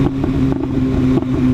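SC Project CRT exhaust on a motorcycle out riding, a loud steady droning burble with slight pulsing throttle changes, close and continuous.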